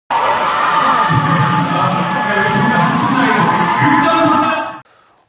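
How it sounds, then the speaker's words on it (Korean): A crowd of children cheers and shouts loudly and continuously, their excited voices blending into one roar that cuts off abruptly near the end. "아이들의 함성 소리에 굉장히 싱싱함이 느껴지지 않으십니까?"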